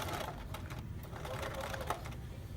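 A sewing machine stitches steadily through fabric and elastic while a square pin cushion is sewn up, a continuous close mechanical whir with a fast, even needle rhythm.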